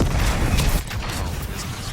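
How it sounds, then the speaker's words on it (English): Hellstorm missile strikes explode in the Black Ops 6 video game as a dense, continuous barrage of booming and crashing impacts, steady and loud throughout. "Hellstorm incoming."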